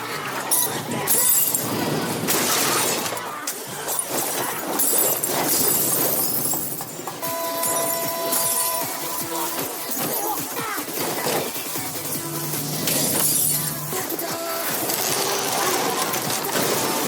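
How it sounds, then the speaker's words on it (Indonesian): Glass bottles are thrown and shatter during a chaotic movie fight scene, with repeated crashes and clinks of breaking glass mixed into dense, loud action noise and music. "mereka juga menggunakan senjata dalam pertarungan tersebut dan melempari Smokey beserta teman-temannya dengan botol kaca."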